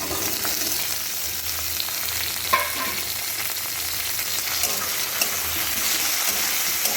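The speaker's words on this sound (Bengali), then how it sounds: "ভেজে নেব এই সময় দিয়ে দিচ্ছি টমেটো আর কাঁচা লঙ্কা কুচি" Chopped tomato and green chili fry in hot oil, a dense continuous sizzle close up, with a few brief stirring scrapes and clicks over the steady hiss.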